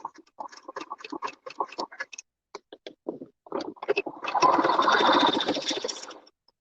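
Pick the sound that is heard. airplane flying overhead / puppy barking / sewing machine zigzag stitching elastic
sewing machine zigzag stitching elastic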